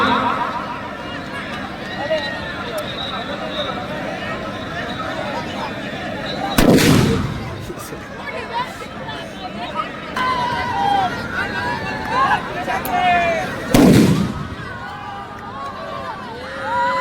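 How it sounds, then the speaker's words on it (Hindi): Two sharp, loud firecracker blasts about seven seconds apart at a football tournament, ringing over a steady murmur of crowd noise and chatter. "पटाखों की गूंज"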